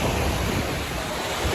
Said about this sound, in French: Il y a masse de vagues, il n'y a personne.